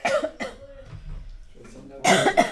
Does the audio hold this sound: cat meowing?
no